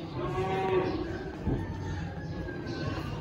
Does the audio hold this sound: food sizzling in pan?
no